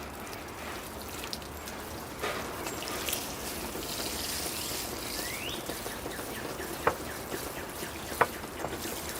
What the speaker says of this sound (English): You can see the soil is draining really, really well